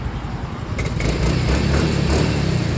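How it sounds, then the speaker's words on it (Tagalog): A motorcycle engine started remotely by a two-way alarm cranks and catches, then settles into a steady, close idle with a low, throbbing rumble. "Gusto mong i-start, hindi mo na kailangan ayan, start na yung motor."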